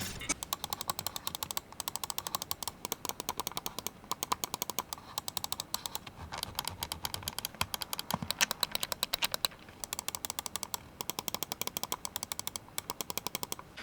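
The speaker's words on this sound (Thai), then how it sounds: "เดี๋ยวไปฟังเสียงคลิกกันนิดนึง" Rapid computer mouse button clicks on Huano Blue Shell Pink Dot switches, crisp and springy, fired in quick bursts of even taps with short pauses between, close and fairly quiet with no talking.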